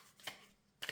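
Tarot cards being shuffled, two short faint riffling bursts separated by a quiet gap, with no voices.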